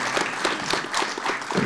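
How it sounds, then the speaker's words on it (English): Steady audience applause at an awards ceremony, continuous dense clapping throughout the short stretch with no talk over it. "Let's give him another round of applause."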